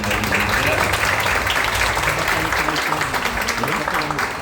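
Dense audience clapping runs steadily through a drag queen talk event in Brazil, a full crowd applauding together without letup, with murmured voices mixed in underneath.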